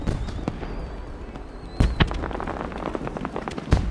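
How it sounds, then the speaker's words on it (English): Fireworks crackle and pop at night in Final Fantasy XIV, with a fizzing shower of small bursts under several sharper, louder bangs that arrive at irregular intervals, fairly close and with no speech. "Looks like the fireworks go off a couple of times in the night."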